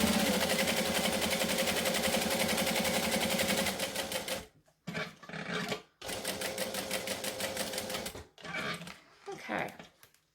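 Sewing machine stitching around the edge of a leather wallet, running in a steady fast mechanical rattle, stopping briefly around the five- and eight-second marks, then resuming in short bursts.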